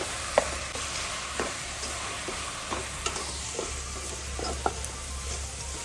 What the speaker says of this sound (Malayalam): നമുക്ക് പച്ചമുളകും അതുപോലെ കരിവേപ്പില ആഡ് ചെയ്ത് കൊടുക്കാം നല്ലോണം ഒന്ന് വരട്ടിയെടുക്കാം